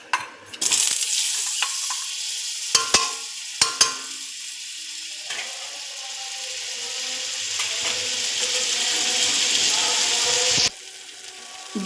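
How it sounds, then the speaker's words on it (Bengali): Paneer frying in butter in a pan gives a strong, steady sizzle, punctuated early by a few sharp clacks of a utensil against the pan, then a continuous close hiss that drops off abruptly near the end. "পনিরটাকে ভেজে নিচ্ছি।"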